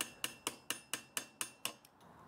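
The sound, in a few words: hammer and screwdriver tapping a bicycle headset washer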